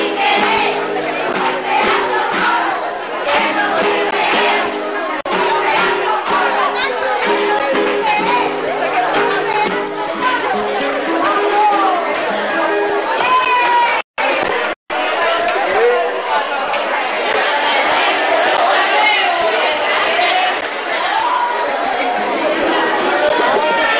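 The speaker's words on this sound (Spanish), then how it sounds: "Y la gente aplaude y la gente anima" A large carnival crowd at Nerja's 1996 carnival roars, cheers and claps continuously around a school choir's stage performance, a dense, loud wall of voices with a brief cut in the middle.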